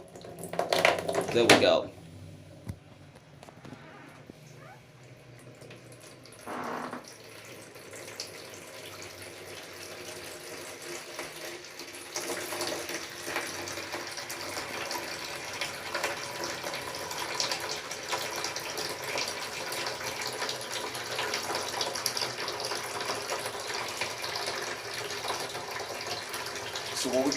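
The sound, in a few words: Grundfos twin impeller booster pump filling 11 liter bucket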